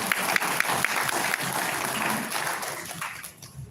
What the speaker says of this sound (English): I hear a little faint clap.